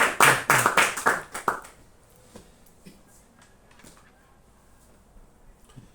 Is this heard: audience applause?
yes